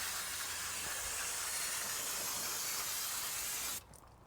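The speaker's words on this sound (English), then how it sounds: "Now with some brake clean, we'll spray down our hub and our parking brakes." Brake cleaner sprayed from an aerosol can onto the rear hub and parking brake of a 2005-2009 Subaru Outback, a steady, loud, close hiss lasting nearly four seconds before cutting off abruptly.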